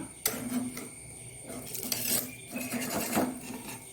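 Bun dosa flipped in a pan, giving soft scraping and clinking metal-on-pan sounds with a brief sharp tap, close and moderately quiet under light background hiss.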